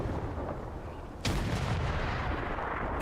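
Grenade blast in a first-person shooter match on the L90 team, a sudden broadband burst that jumps in loudness about a second in and rumbles on under steady game noise.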